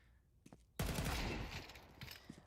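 Gunfire during a Counter-Strike match between Spirit and MIBR at a major tournament, opening with a few faint pops and then a sudden loud burst of rapid shots that decays into scattered softer shots.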